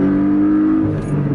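A 2017 Porsche 718 Cayman S with a manual gearbox revs hard, a loud, close engine note holding a steady, high drone before it drops as the revs fall away.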